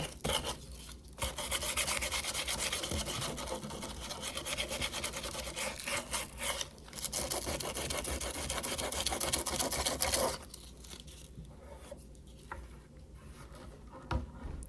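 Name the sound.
wet distressing rubbing painted wood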